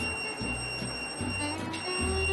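Steady high-pitched electronic beeping from a JX-9000A high potential therapy device over a low pulsing hum, heard close and moderately quiet.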